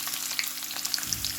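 Chopped garlic drops into hot oil with cinnamon and cloves, frying with a steady close sizzle and light crackles for palak paneer.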